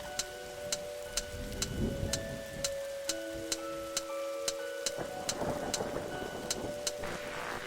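Steady rain from a dying storm in The Darkside Detective, a soft continuous patter with a regular ticking pulse throughout and a brief louder swell of rainfall near the end, no voices.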